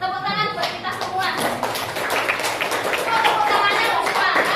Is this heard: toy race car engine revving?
no